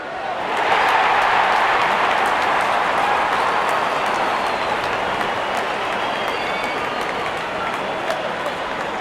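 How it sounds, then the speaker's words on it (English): A large crowd cheers in an IPL cricket video game as the openers walk out, a dense, steady roar of voices and applause sustained at high volume throughout. "Openers walking in and the crowd cheering in anticipation."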